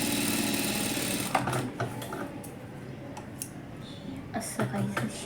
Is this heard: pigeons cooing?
no